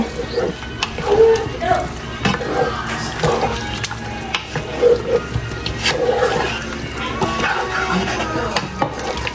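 Coconut milk is stirred into chicken curry in a pan, giving soft scraping and gentle sloshing with faint bubbling, close by, as someone speaks over it.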